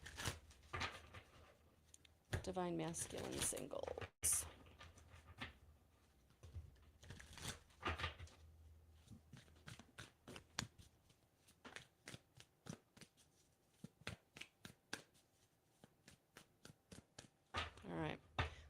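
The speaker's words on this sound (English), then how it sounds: "So let me do some shuffling." Tarot cards are shuffled by hand in a quiet room, giving repeated crisp riffling and rapid flicking bursts, close and fairly soft, with a brief spoken phrase early on.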